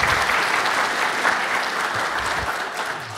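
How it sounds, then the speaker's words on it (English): At a tech talk on iOS and Android automation, an audience breaks into steady, dense applause that fills the room at an even level and tapers slightly toward the end. "But applause for Hugs and Robots and Tapster."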